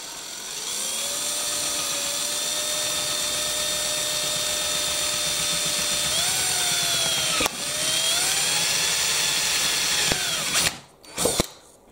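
A power drill bores through the wheel of a Bruder CAT toy telehandler, a steady high whine held for about ten seconds with slight pitch shifts, then stopping with a couple of short clicks.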